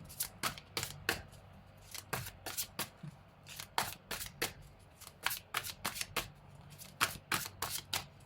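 Tarot cards shuffled by hand in a quick, irregular series of crisp riffling flutters, close and clear, with brief pauses between bursts.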